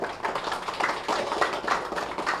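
Audience applause fills a PMC Telangana district incharges meeting in an office hall, a dense, steady run of many hands clapping at moderate loudness throughout.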